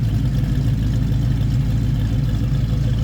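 A 1963 Chevrolet Corvair restomod engine runs steadily at a low idle, a deep continuous rumble with no talking, close by.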